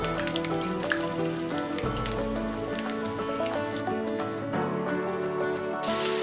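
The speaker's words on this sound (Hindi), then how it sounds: "इसको उस वक्त तक मैं फ्राई करूँगी जब तक प्याज का कलर गोल्डन नहीं हो जाता" Onions sizzling in a pan of hot oil for beef nihari, a steady crackling hiss heard close and continuous throughout.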